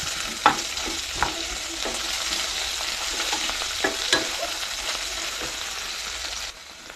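Ginger, garlic and onion with cumin crackle in hot mustard oil: a continuous bright sizzle punctuated by a few knocks and scrapes of a spoon, dropping away abruptly near the end.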